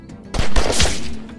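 Gunshots ring out in The Walking Dead: 400 Days, an episodic zombie adventure game, as a loud burst of several close, overlapping shots with no talking.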